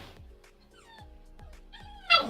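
A dog barks and yips in short bursts at a cat indoors, several sharp calls spaced about half a second apart, moderately close, ending in a louder, higher yelp.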